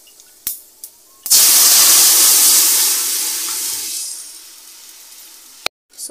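Dal dropped into hot oil with onion and garlic for a Bengali vegetarian thali, bursting into a loud, close sizzling hiss that slowly fades over a few seconds, preceded and followed by brief clatters.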